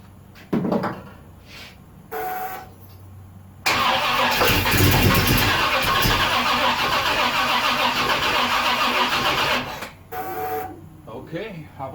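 A 1970 Pontiac LeMans GTO with a 455 engine cranks on a new starter, a loud sustained churning grind lasting several seconds between brief clicks, with people talking before and after.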